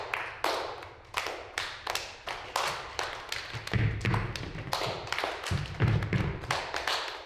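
People clap hands in a loose, uneven rhythm, sharp close claps repeating about twice a second, joined midway by heavier low thuds.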